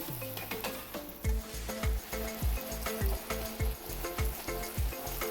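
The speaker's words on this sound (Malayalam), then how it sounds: "അങ്ങനെ ഓരോ പൂരിയും നമുക്കിതുപോലെ പൊരിച്ചെടുക്കാം." Beetroot poori deep-frying in hot oil, with a steady close sizzle and repeated low bubbling bursts as the dough puffs, alone without voices.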